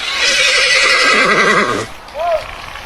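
A horse whinnies loudly in a forest, a long quavering neigh that breaks off, followed after a short pause by a brief higher squeal, with faint clip-clop of hooves.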